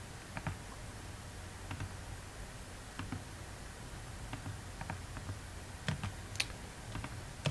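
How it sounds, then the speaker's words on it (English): Someone presses keys on a calculator, producing a faint, sparse series of soft plastic clicks at an uneven pace in a quiet room. "Now if you type on your calculator just natural log of 7,"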